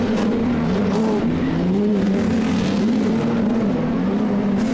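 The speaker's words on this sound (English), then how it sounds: "Chris Vandenelsen better get on the loud pedal right now because Parrish is on the move" Off-road race trucks roar around a dirt track at an AMSOIL Championship round in Antigo, Wisconsin, a dense, continuous engine drone that rises and falls slightly as they accelerate.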